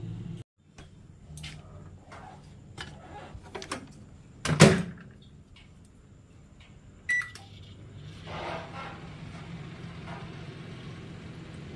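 A microwave oven heating water in a home kitchen before flour dough is kneaded, with door clunks and a beep-like click, then a steady low hum running on under faint background sounds.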